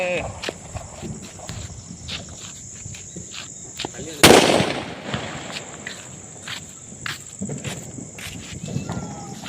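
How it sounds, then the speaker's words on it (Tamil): Against a background of insects and rustling, a single sharp bullet bomb firecracker blast bursts out midway on open ground, loud and close, then quickly fades. "இது வந்து பார்த்தீங்கன்னா புல்லட் பாம்"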